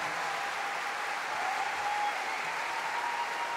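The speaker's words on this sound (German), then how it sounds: "Ein Applaus." An audience applauds a band, Banda Senderos from Essen, at a Christmas music show: a steady, even roar of many clapping hands, sustained at moderate level with no talk over it.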